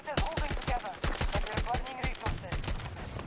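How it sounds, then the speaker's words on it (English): Rapid gunfire in Battlefield 2042, a close, sharp stream of shots in quick succession, with someone talking over part of it. "I don't know who's shooting at me from where."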